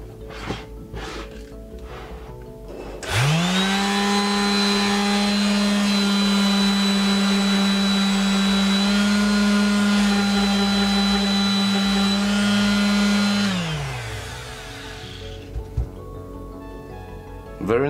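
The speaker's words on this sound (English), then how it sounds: "let's sand this piece of wood" A Parkside PSS 250 C3 250W electric sheet sander sanding coated wood starts up with a whirring hum, runs steadily for about ten seconds, then winds down; a few knocks and handling noises before and after.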